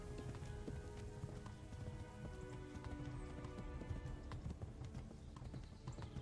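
Rhythmic hoofbeats of a horse in the video game Kingdom Come: Deliverance moving at a steady pace over a patter of rain, with a faint whinny in the background; no talking.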